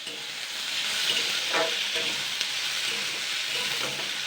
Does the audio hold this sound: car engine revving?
no